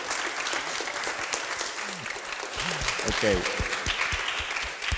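Audience applause for the speakers at a conference session, a steady broad wash of clapping filling the whole stretch, with a short spoken word in the middle.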